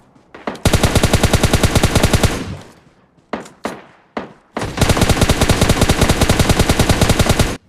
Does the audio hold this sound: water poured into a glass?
no